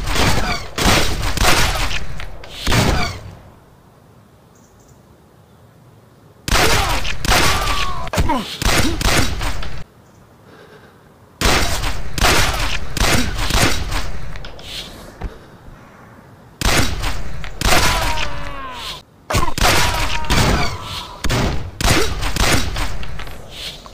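Shotgun fire rings out in the video game Sierra 7, in dense, loud volleys lasting a few seconds each, separated by near-silent gaps. The bursts return four times.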